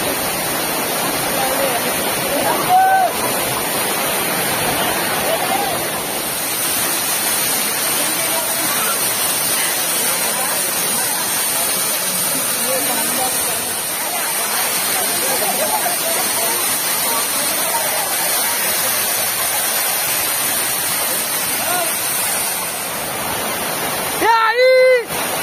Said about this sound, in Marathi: जबरदस्त वॉटरफॉल आहे